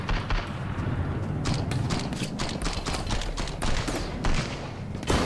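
Grenade blasts and rapid gunfire from a Sunkenland island battle, a dense, continuous barrage of sharp cracks and heavy thuds with no letup across the whole stretch.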